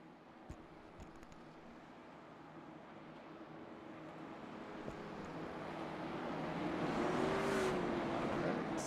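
Race cars at the Frostbite 100 build from a low, distant rumble into a swelling, rising engine roar as the field accelerates onto the green flag, growing louder and nearer toward the end.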